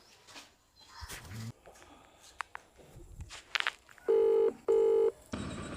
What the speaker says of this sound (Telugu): అబ్బా ఫోన్ చేసిందిరా ఇది